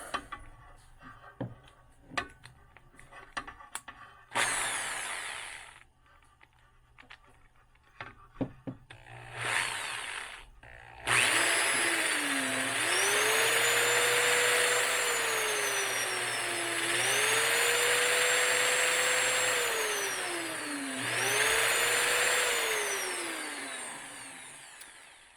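A Frankford Arsenal Universal Trimmer trims 5.7x28 brass cases. Scattered clicks and handling noises give way to a loud, steady whirring motor whose pitch repeatedly rises, holds, then dips as each case is cut.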